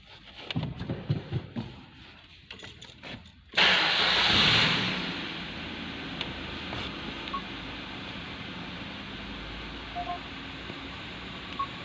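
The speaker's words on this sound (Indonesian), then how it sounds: "kita hidupkan dulu mesinnya" Car engine cranked and started during a MAP and IAT sensor check, a few clicks and beeps before a sudden loud catch into a roar that settles into a steady idle.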